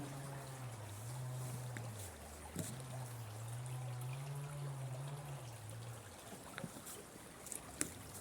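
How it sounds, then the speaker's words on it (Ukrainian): Quiet, steady rush of clean, cold river water flowing near a bridge, with a low droning hum underneath and a few faint clicks near the end. "Чистенька вода тут біжить, холодна."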